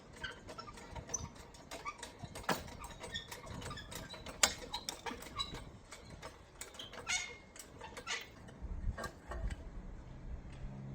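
A spring press compresses a coil spring from a Ford Fiesta Mk7 front strut, giving irregular metallic clicks, ticks and creaks close by over about eleven seconds with no talking.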